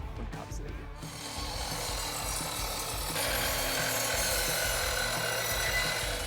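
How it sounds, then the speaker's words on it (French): Parkside sliding miter saw cutting through wide wooden beams, a continuous loud buzzing, rasping cut that grows denser and slightly louder after a few seconds, close up with no talk. "Je dois découper des poutres. Elles sont un peu larges, donc je vais choisir la scie à onglet coulissante."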